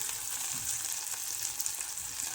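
Ground spices, chilli powder and coriander powder among them, sizzle in hot oil while a spicy black bean curry is cooked at home; a steady, close frying hiss with faint stirring scrapes and no talking.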